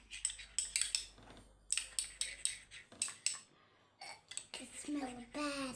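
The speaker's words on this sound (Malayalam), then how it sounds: "ഇനി നമുക്ക് ഇതിലേക്ക് കുറച്ച് തേനും കൂടെ ചേർത്ത് കൊടുക്കണം എന്നിട്ട് നന്നായിട്ട് മിക്സ് ചെയ്തെടുക്കാം" A face pack being mixed with honey in a small bowl, a spoon giving repeated quick scraping clinks against the bowl, close and fairly quiet, with a short stretch of talk near the end.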